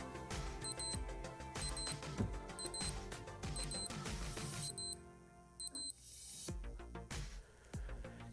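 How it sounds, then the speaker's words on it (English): Casio IA-1000 flip-top data bank watch sounding its alarm test: short bursts of high, thin electronic beeps repeating in a regular pattern, quiet and close, with faint clicks and background bumps between them. "we can do an alarm test by holding the key."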